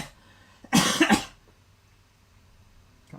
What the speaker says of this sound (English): a weird cough